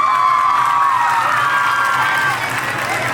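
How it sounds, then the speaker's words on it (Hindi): Audience at a school annual function applauding and cheering for a student, a dense continuous wash of clapping and crowd noise with voices mixed in, loud and close throughout. "सानिया के लिए तालियां बजी"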